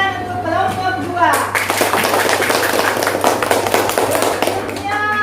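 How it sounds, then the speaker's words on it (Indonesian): A classroom of students claps for a student group, a short burst of brisk, close clapping that starts after a voice and runs for a few seconds before fading back to talk. "Beri tepuk tangan untuk kelompok 2."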